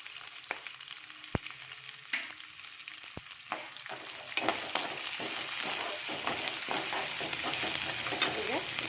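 Chopped green chillies sizzle in a hot pan, a soft steady frying hiss that swells midway, with sharp clicks and clatters of a utensil stirring throughout.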